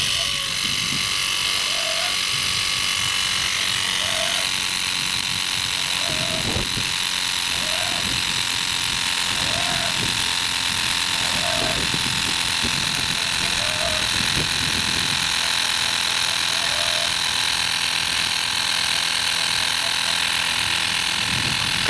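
A BERKUT Specialist VL-1000 cordless bicycle compressor inflating flat bicycle tyres gives a loud, constant mechanical buzzing drone throughout, with someone speaking intermittently over it.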